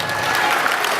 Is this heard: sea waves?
no